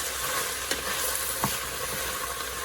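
Jalapeno sautéing in an Instant Pot gives a steady, even sizzle, broken by a couple of short scraping ticks from a spoon stirring the pot.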